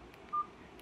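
A single short keypad beep on an old Nokia phone as a Snake game starts, one brief clear tone amid quiet room hiss.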